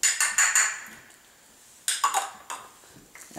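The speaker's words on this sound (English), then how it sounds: "we're just going to add all this into our small bowl here with our mayonnaise" Ingredients for tartar sauce are scraped and dropped into a small bowl of mayonnaise, giving a few close clinks and taps of utensil on dish in bursts, with quieter pauses between.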